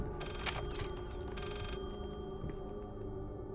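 A telephone bell rings in the Layers of Fear VR game, two bright repeated bursts of trilling over a steady eerie background drone.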